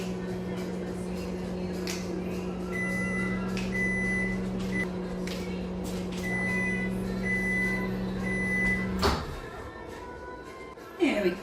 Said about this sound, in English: I'm going to just chuck this in the microwave for about 10 seconds